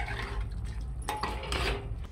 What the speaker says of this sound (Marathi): फक्त हळद आणि मीठ टाकले आणि चांगलं परतून घ्यायचंय